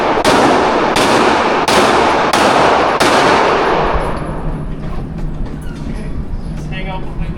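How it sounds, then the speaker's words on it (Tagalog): A rapid series of sharp gunshot bangs, about five loud reports in the first three seconds, echoes from inside a summer attraction in Vancouver, Canada, before fading into crowd murmur and voices. "nakikinig na namin yung mga putukan doon sa loob"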